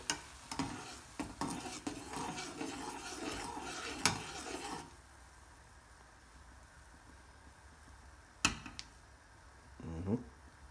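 A spoon stirs coffee boiling in a pot on a stove, with a few clinks and scrapes against the metal, then a quieter simmering stretch broken by a couple more sharp taps.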